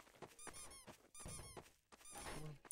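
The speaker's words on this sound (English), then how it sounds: "I hear the squeaking." A squeaking clock in Garry's Mod Trouble in Terrorist Town gives three bursts of rapid, high, chirping squeaks, loud and close, with short gaps between them.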